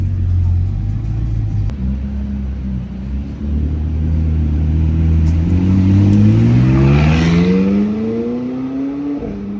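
A Porsche pulls away and accelerates hard, its engine note climbing steadily in pitch through the gears as it rumbles close by. Voices talk over the rising roar.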